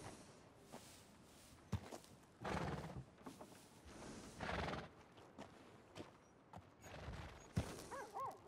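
Horse neighing and whinnying in Red Dead Redemption 2, with clip-clop hooves and footsteps, several loud whinny bursts spread through a quiet outdoor scene.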